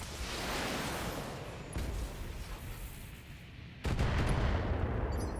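Mech weapons in BattleTech firing on a Trebuchet mech, heavy rumbling bursts of gunfire and impacts in a continuous barrage that surges louder toward the end, with no talking.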